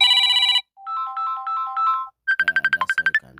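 A Messenger ringtone plays loud and clear: a short burst of bright electronic tones, then a rising run of chime-like notes, then a rapid series of pulsing melodic beeps, with no talking.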